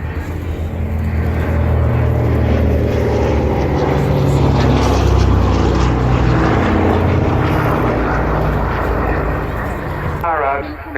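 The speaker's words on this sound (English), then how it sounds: "Here comes the DC-3 up in the trees." A Douglas DC-3 propeller airliner flies past at the Cosford airshow with a steady, heavy engine drone that swells gently and then fades. Loud crowd and commentary noise runs underneath throughout.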